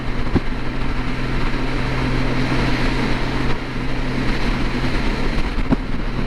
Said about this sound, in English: And the wind is strong.